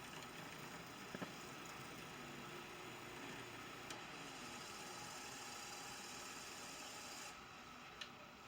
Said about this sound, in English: as you can see, the disc's spinning up just fine.